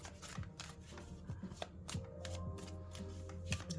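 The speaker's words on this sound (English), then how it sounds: "We'll just shuffle them back in there." Tarot cards being shuffled by hand, a steady run of soft riffling and tapping bursts, close and fairly quiet, with no talk over it.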